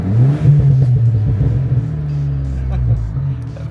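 A Volkswagen MK7 GTI with a hybrid turbo idles with a loud, close, low engine drone that swells briefly in a free rev, then settles back to a steady rumble, with voices talking over it.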